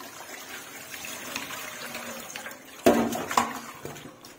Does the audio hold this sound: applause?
no